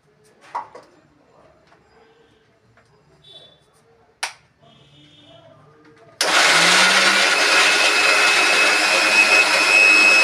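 A mixer grinder starts abruptly after some quiet clinks and shuffling, then runs loud and steady at a high whine, grinding ingredients for a fish curry meal.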